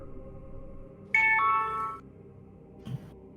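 A phone rings with a short electronic melody lasting under a second, bright and fairly close over a low indoor hum. It then stops, leaving quiet with a brief faint knock afterward.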